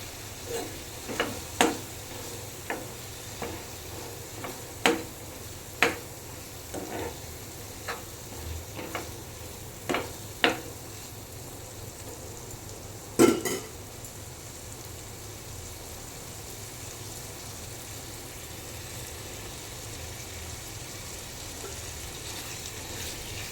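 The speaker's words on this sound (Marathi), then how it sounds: "त्यावर आपल्याला हे मटर फ्राय करून घ्यायचे आहे" Green peas frying in a pan give a steady low sizzle, with a series of sharp clicks and taps from stirring scattered through the first half and a louder clatter near the middle.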